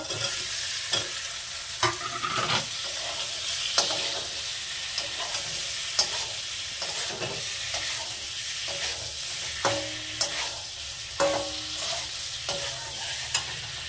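Paneer pieces fry in a pan of cooked-down spiced masala, giving a steady close sizzle. Scraping stir strokes and knocks recur throughout, with no talking.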